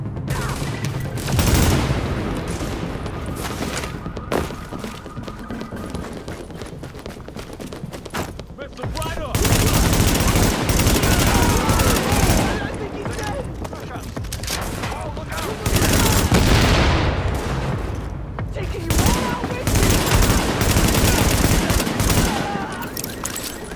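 Sustained, loud gunfire fills a Tom Clancy's The Division firefight, with rapid bursts and volleys rattling in waves and brief lulls between them, while a player voice talks over the shooting.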